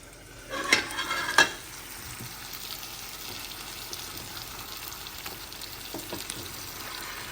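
Food frying in homemade desi ghee with plenty of oil, a steady crackling sizzle throughout with a few louder spatters and utensil scrapes early on, no talking.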